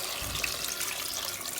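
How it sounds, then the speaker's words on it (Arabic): Boiling water pouring into a pot of Tunisian potato stew, a brief close, steady splashing gush with no voices. "نحطوا لها الماء اللي يغلي"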